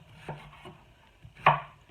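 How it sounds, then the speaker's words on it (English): A knife roughly chops elephant garlic on a cutting board, giving a few sharp taps spread out unevenly, the last one loudest, heard close up with no talking. "It's elephant garlic. I'm just going to roughly chop it up and throw it in there."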